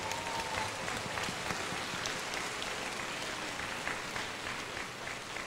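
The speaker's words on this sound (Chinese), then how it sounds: "也给他们一个掌声" Sustained applause fills a school graduation ceremony hall, a dense, even patter of many hands clapping at once, fairly distant and steady throughout the whole stretch without any talking.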